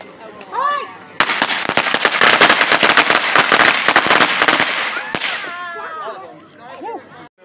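Independence Day firecrackers go off in a rapid, loud crackling barrage for several seconds after a lit fuse catches, with people talking and shouting before and after the burst.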